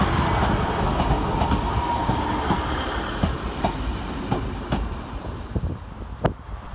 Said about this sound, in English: departing with the 1435 Northern Rail service to Huddersfield via Penistone is